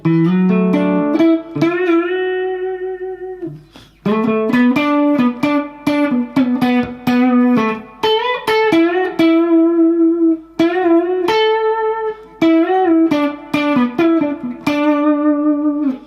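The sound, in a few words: electric guitar intro lick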